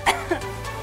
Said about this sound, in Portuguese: Você já começa tossindo?